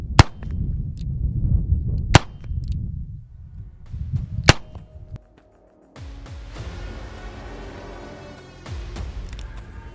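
Several sharp gunshots from a Nighthawk Custom Korth NXS .357 Magnum revolver, fired alone at spaced intervals with a brief silent gap, followed by faint ringing echo and rustling.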